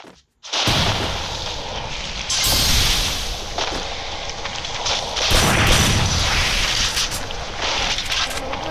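Firecrackers burst in a loud, continuous crackling barrage, with sharp pops layered over a dense roar that runs on for several seconds, close to the microphone and without any talk.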